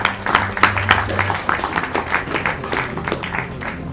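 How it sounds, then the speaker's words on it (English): Audience applause at an award ceremony during a national conclave, a moderate steady patter of clapping in a hall, partly under a voice and slowly thinning out toward the end. "A warm round of applause."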